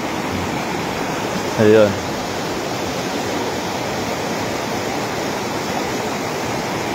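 Strong water current rushing through a dam makes a steady, loud, broadband roar that fills the whole stretch without pause. A voice speaks briefly near the start.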